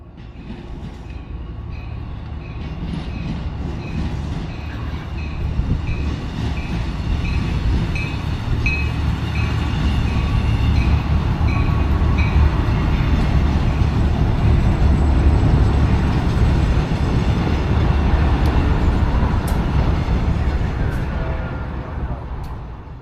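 A Reading and Northern RDC passenger railcar runs along the line, a continuous loud rumble of wheels and engine with faint rail squeal and clicking, swelling and holding steady throughout.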